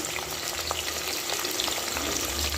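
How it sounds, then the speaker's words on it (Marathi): Sliced onions are frying in oil for biryani, giving a dense, continuous crackling sizzle with scattered pops and faint stirring scrapes, close and steady throughout. "कांदा आपल्याला छान असा फ्राय करून घ्यायचा आहे लाल होईपर्यंत"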